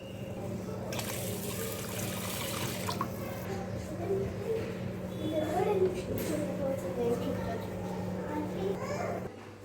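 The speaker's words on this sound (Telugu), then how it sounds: "ముందుగా మనం బాస్మతి రైస్ని బాగా వాష్ చేసుకొని వాటర్ పోసి అట్లీస్ట్ ఒక 1 అవర్ నానబెట్టుకుందాం" Basmati rice being washed in water for biryani, with a soft trickle and sloshing of water under steady background hum and occasional voices.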